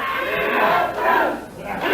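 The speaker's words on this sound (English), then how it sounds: "The crowd begins chanting, "We want Bruce!"" A large wrestling arena crowd in St. Louis chanting in unison during a match, a loud, sustained roar of voices with a rhythmic rise and fall.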